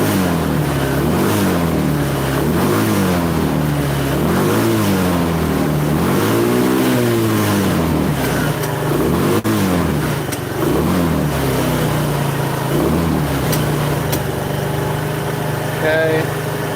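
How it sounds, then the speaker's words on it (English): A Chinese 125 scooter engine, unused for six months or more, warms up with a steady idle that rises and falls in slow revving swells, with someone talking over it. "I wanted a nice easy warm up because this hasn't run for 6 months or more"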